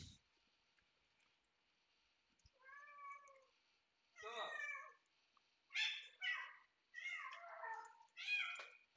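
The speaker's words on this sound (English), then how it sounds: "Meow, meow, meow, meow." A cat meows several times in quiet surroundings: one drawn-out call, then a cluster of short, insistent meows close by.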